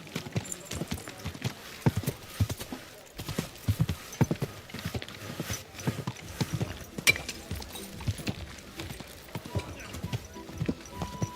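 Horse hooves clip-clopping in the medieval RPG Kingdom Come: Deliverance 2, a steady rhythmic run of close, crisp hoof strikes continuing throughout, with faint mechanical rattles and a brief voice in the background.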